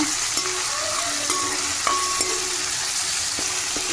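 Freshly ground ginger-garlic paste frying in a hot pan for a simple home recipe, a steady sizzle with a few soft clinks and stirring scrapes throughout, close and continuous, no talking.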